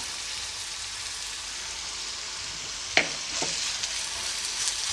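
A paste of ginger, garlic, green chilli and coriander fries with onions in a pan, giving a steady soft sizzle with a couple of sharp stirring clinks partway through and no talking.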